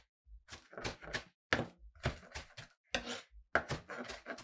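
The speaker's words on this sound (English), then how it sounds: "So we're just gonna go ahead and chop all this up." A knife chops herbs for tabbouli on a board, making crisp, loud thuds in quick bursts of two or three strikes separated by short pauses.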